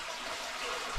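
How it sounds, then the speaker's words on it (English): Inside a cave, water flows toward a sinkhole as a soft, continuous rushing wash, faint and distant, with no talking. "You can hear the water running in the distance behind me,"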